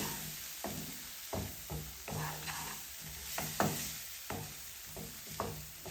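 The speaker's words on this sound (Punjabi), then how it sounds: "ਮਿਕਸ ਕਰਕੇ ਆਪਾਂ ਇਸ ਨੂੰ 1-2 ਮਿੰਟ ਲਈ ਭੁੰਨ ਲਵਾਂਗੇ" A spice mix with Kashmiri red chili and salt roasted and stirred in a pan for dum aloo: a soft sizzle under repeated rhythmic scraping strokes of a spoon, close and fairly quiet.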